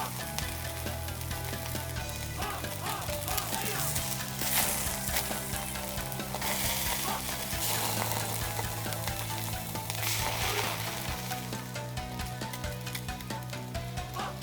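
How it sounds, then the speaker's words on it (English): Salmon grilling over a settled charcoal fire, giving a continuous close sizzle with dense crackling and spitting that holds steady throughout. "Please enjoy the salmon grilling deliciously for a while."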